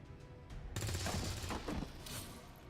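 Alien laser weapons firing in the video game XCOM 2: a dense, roaring burst of rapid shots that swells after a few faint pops and sustains for about two seconds before tapering, alone without talk.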